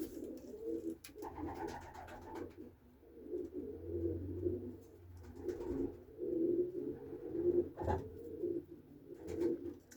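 Soft, repeated cooing of young Budapest high-flying pigeons, low throaty calls in a gentle rolling rhythm, close by with some faint background rustling.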